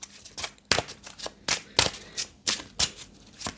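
A deck of oracle cards shuffled by hand, close and fairly quiet: crisp riffling bursts that repeat in a steady rhythm about twice a second.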